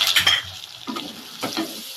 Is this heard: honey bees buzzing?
no